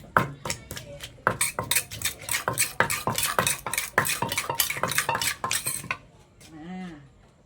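Metal spoon clinking and scraping steadily against a bowl while sugar is mixed into Thai papaya salad (som tam), a quick, rhythmic run of close taps that stops abruptly, followed by a brief voice.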